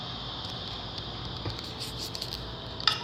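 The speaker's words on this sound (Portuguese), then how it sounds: "Ah, tá chovendo." Rain falling in the Minecraft video game, a steady soft patter of drops spread evenly throughout, fairly quiet, with a few faint clicks near the end.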